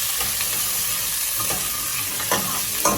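Garnish, including garlic, sautés in hot oil for Jamaican curry shrimp: a steady, hissing sizzle runs throughout, with a few soft scrapes of stirring near the end.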